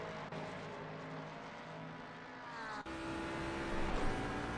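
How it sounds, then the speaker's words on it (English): Ford Mustang race car in a sim racing game at Imola, its engine droning steadily with harmonic tones rising and shifting as it revs, a loud continuous roar that climbs in pitch toward the end. "The absolutely gnarly sound coming from this Mustang"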